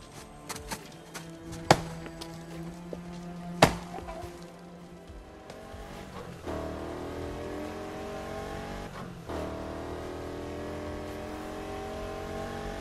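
In the Need for Speed Heat video game, a car engine idles and then revs up into a sustained, steady drone, with a few sharp clicks and knocks early on and no voices.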